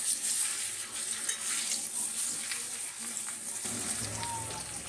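Potato and soybean curry sizzles steadily in a pan while a spoon stirs through it, continuous close frying hiss with soft scraping and occasional light clinks.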